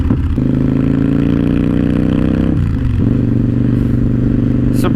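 A loud Victory Vegas motorcycle engine with Pro Street exhaust runs with a deep, throaty rumble, dipping briefly as the revs change before settling back to a steady idle.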